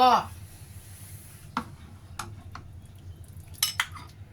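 A spoon scrapes and knocks against a pot while sago pudding with durian is scooped out, giving a few sparse metallic clinks and taps over a quiet background.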